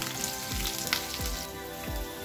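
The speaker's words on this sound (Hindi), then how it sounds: "इनको भी हल्का फ्राई कर लेते हैं हम" Coarsely cut green chilies fry lightly in a pan, a steady soft sizzle with faint crackling held at a low, even level throughout.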